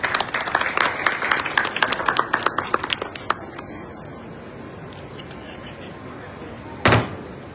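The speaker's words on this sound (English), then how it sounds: "Can we have a huge round of applause and thank Honorable CM for his address?" Applause breaks out after a chief minister's address at a public event, a burst of many hands clapping that thins out within a few seconds, leaving quiet room tone and one sharp bang near the end.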